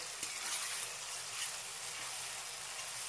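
Ginger-garlic paste and tomato puree sizzle softly in a pan as the masala is fried, a faint, steady hiss with a few light stirring touches and no talking.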